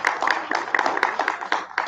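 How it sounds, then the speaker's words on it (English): A small crowd at a birthday celebration claps for a priestess after an opening libation, a brief run of close, sharp hand claps in a loose, quick rhythm. "Give her a round of applause, of course."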